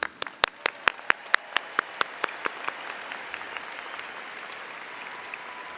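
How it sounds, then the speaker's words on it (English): Applause from an audience at a college commencement, starting as a run of loud, distinct claps that soon blend into a softer, steady wash of clapping that continues to the end. "Please join me in giving them one more round of applause."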